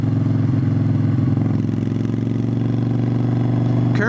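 A 1985 Yamaha XV1000 Virago V-twin motorcycle runs steadily in chilly, slightly windy March weather, its deep throbbing engine loud and close with a continuous even rumble and a brief rise in pitch near the end.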